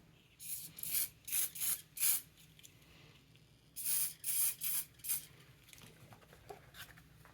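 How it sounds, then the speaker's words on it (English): Short hissing bursts of a water-based spray paint can, several quick sprays in two groups separated by a pause, close and moderately quiet. "the last thing I'll show you is these water-based spray paints."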